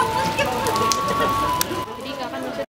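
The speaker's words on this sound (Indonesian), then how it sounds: "hujan." Steady rain pattering on a surface, loud and close with a dense crackling texture, while people talk over it before it cuts off abruptly.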